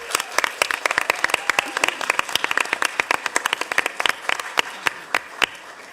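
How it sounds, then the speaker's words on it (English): Audience applause at a school board meeting, honoring a middle school team: a room of people clapping steadily with sharp, dense claps throughout, fairly close. "Round of applause for them, please."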